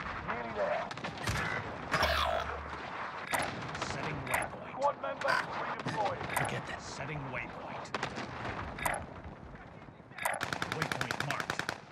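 Rapid automatic gunfire bursts in the video game Warzone, repeated volleys and single shots throughout, loud and close, with a player's voice briefly heard over the shooting.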